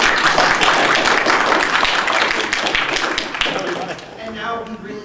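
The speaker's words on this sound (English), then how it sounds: "I think we should give this man a round of applause for him" Audience at a convention panel gives a man from Brisbane a round of applause, dense clapping for about four seconds that thins out as a voice begins speaking near the end.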